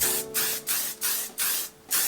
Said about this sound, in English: I'm going to spray it with hairspray